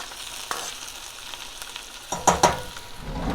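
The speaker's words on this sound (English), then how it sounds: "so I'm adding my spinach" Fresh spinach dropped into a hot pan: a faint background sizzle swells into louder crackling and hissing as the leaves land, with a couple of sharp knocks of a utensil, close by.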